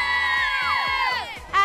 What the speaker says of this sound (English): Now, girls, cheer if you support Liverpool.